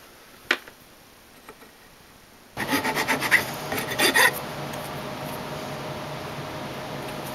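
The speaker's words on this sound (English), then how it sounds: "I'm going to file this down till there's a nice snug fit for the pipe." Hand file rasping a wooden chisel handle down to fit a pipe, a few quick separate strokes followed by steady scraping that continues to the end, fairly close and moderately loud; no talking.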